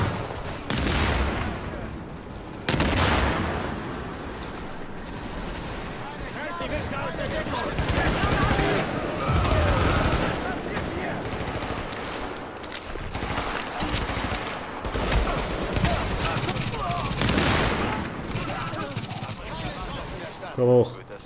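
Sustained gunfire in the video game The Division: dense automatic bursts and shots rattle almost nonstop at loud volume, with players talking over the shooting throughout.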